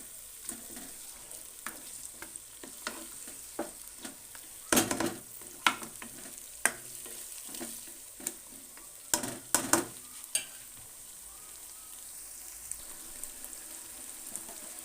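Half a kilo of meat frying and being stirred into browned masala in a pot gives a steady sizzle with repeated scraping stirs, including a few louder clatters near the middle, heard up close with no talking.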